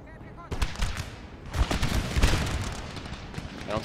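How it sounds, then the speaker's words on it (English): Cannon fire in the Napoleon Total War video game, a string of booming battlefield shots with heavy low rumble rolling in from about halfway through and continuing as a dense barrage. "One of my cavalry got hit by cannons"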